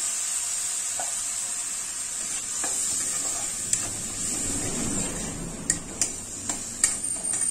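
A splash of water goes into a hot pan of sizzling spice masala for a cabbage curry. A thin hiss rises into a fuller bubbling surge midway, followed by several sharp spoon taps against the pan.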